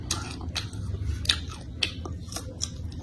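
Crunchy red chili chips are chewed close to the mic, a string of sharp crisp crunches in an uneven rhythm, fairly faint, with no talking.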